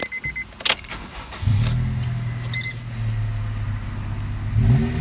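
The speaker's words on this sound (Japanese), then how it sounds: "ちょっとエンジンかけてみましょう。" Key clicks, then a Honda Integra Type R (DC5) engine cranks and catches, settling into a steady low idle with a short chime partway through.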